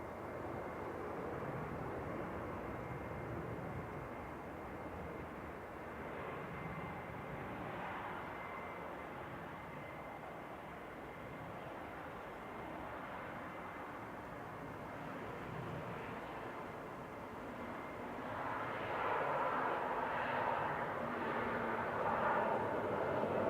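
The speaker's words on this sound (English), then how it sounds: "And Etihad is pushing back. Well, the 787-9 Dreamliner departure very shortly." An Etihad Boeing 787-9 Dreamliner pushes back and departs at Manchester Airport, its engines a broad, steady roar heard from a distance that swells somewhat louder toward the end, with no speech.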